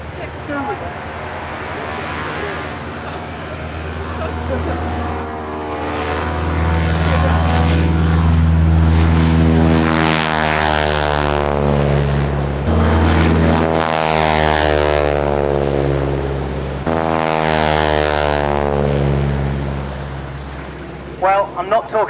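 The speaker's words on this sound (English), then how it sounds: "The sound of those aircraft as they bowl down the runway on takeoff power." Vintage propeller aircraft at the Woodchurch 2005 show roar down the runway on takeoff power, a loud, close engine drone that swells and falls as each plane passes, its pitch sliding between passes, with a voice speaking over it.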